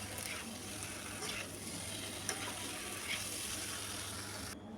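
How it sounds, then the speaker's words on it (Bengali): Potatoes and soya chunks sautéing together in a pan, a steady close crackling sizzle with occasional stirring scrapes throughout, no talk. "দিয়ে একেবারে একসঙ্গে আমি আলু আর সয়াবিনটাকে কষাবো"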